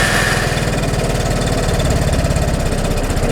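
The engine of a 2015 Vespa Primavera 150 scooter idles close by with a steady, even, pulsing putter throughout. It stays loud and unchanging, with no talk.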